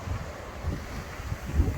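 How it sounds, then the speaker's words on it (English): Steady low wind rumble buffeting the microphone on a morning in southern Spain, gusting slightly louder toward the end, with no voices. "it's this windy this morning"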